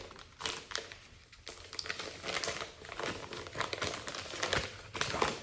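Paper prize envelope crinkling and crumpling as it is handled and opened, a steady close-up rustle with sharp crackles throughout, fairly quiet.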